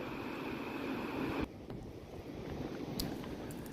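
Water released through the opened gates of the Kadana dam during heavy rain roars as a broad, steady rush that dips sharply partway through before swelling again.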